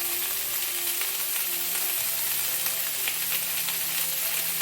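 Cauliflower pieces frying in oil in a pan give a steady, close hiss and sizzle that runs unbroken throughout, with faint crackles and no voices.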